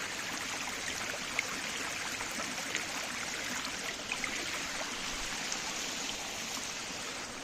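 Mountain spring water flows steadily in Uttarakhand, a continuous close rushing and trickling hiss with no pauses and no voices.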